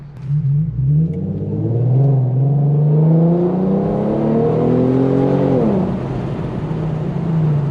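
Exhaust of a tuned E85 Infiniti Q50 on a night drive, rising steadily in pitch as the car accelerates through a long pull, then dropping off as the throttle lifts, loud and close with no talk over it.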